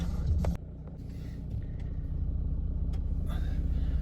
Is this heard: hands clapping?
no